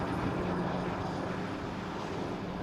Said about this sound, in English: It is the Dreamliner.